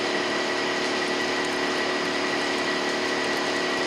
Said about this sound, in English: Okay, let's turn the pump on,